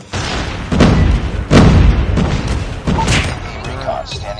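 Heavy gunfire in the Call of Duty video game: several loud, booming shots and short bursts spaced irregularly, each with a sharp attack and a ringing decay.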